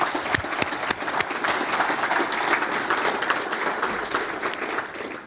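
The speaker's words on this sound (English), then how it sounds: "You lead the clapping" An audience at a business council luncheon applauds, giving a dense, sustained wash of clapping across the room at fairly close range.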